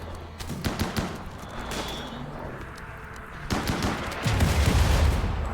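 Gunfire in the video game RimWorld: rapid volleys of sharp shots crackle throughout, building into a heavier, louder burst of fire toward the end, with no talk over it.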